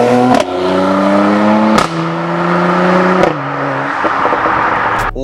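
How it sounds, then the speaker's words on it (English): A modified Mercedes C43 AMG fitted with an AMG Performance Exhaust roars loudly and close by, engine pitch rising in repeated pulls broken by sharp cracks at each shift. "I think the AMG Performance Exhaust is the best exhaust for this car and for any AMG."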